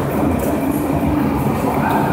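A Star Light Rail tram at a station stop gives a steady rumbling roll of wheels on track, close and continuous, with a faint high squeal above it.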